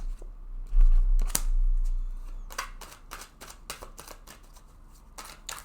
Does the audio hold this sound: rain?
no